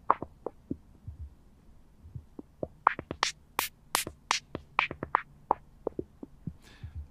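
Synth line in Logic Pro 9 with its filter cutoff being modulated: a sparse run of short, punchy pulses whose brightness swells and falls from note to note, played alone.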